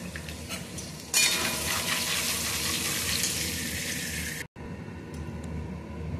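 Crushed spice masala for a mixed vegetable curry hits a hot pan with a sudden loud sizzle that crackles steadily for several seconds, then cuts off abruptly into quieter background noise.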